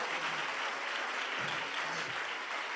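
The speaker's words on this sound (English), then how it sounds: "somebody clap your hands to the Lord" A church congregation claps their hands during preaching, dense steady applause that fills the room for its whole short length with no pauses.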